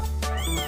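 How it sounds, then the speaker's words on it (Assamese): A single short, close cat meow with a rising and falling tone, loud and clear over a steady low hum. "পাপা মেকুৰী আছে নহয় এটা"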